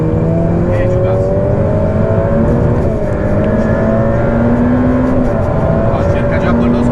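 A Ferrari F8 Tributo accelerates hard on a race track, its engine drone rising steadily in pitch for the whole stretch, loud and continuous, with a voice coaching over it.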